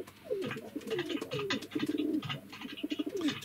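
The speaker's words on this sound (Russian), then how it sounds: "Ты слышишь, голуби воркуют у меня?" Pigeons coo nearby in a series of soft, throaty, rolling calls repeated in a loose rhythm, with faint clatter and background noise around them.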